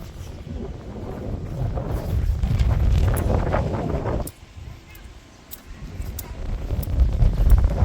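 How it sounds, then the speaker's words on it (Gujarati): Strong wind buffets the microphone in loud, roaring gusts, dropping off briefly midway before surging back. "પવન બહુ હાલે છે પવન છે ઝાડ વાલતા"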